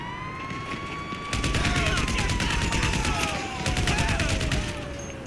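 Sustained machine gun fire in GTA 5 Online, a fast even rattle of shots lasting several seconds, loud and close, with a steady whining tone and engine-like rumble underneath.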